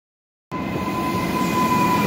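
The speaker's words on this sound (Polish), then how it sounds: "No i siedzimy sobie w pociągu." A train bound for Wrocław rumbles along in a loud, steady roar with a faint high whine, starting abruptly after half a second of silence.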